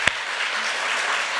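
Applause from the congregation at LA Sarang Church during Sunday worship, a steady wash of many hands clapping after one sharp knock at the start.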